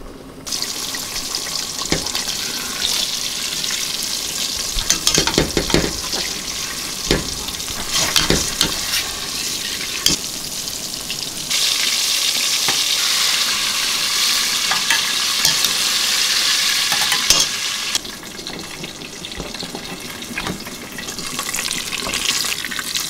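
Meat fries in a pot with a dense, continuous sizzle, punctuated by stirring clatter and scrapes, and a brighter rushing hiss mid-way like a tap running, close and loud with no voices.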